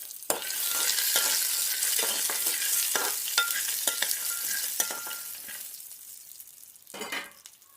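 Peanuts frying and being stirred in a pan for village-style peanut chutney, a steady dry sizzle broken by repeated scraping stir strokes, fading quieter toward the end before a final stir.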